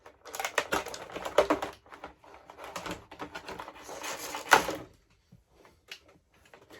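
Plastic packaging of a Gremlins action figure being cut and pried apart, with crinkly rustling bursts and clicks close up, a sharp snap near the middle, then quieter scattered rustles.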